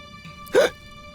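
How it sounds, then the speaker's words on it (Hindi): A single sharp hiccup, brief and close, standing out against a quiet background with a faint steady tone. "हिचकी बंद हो गई ना?"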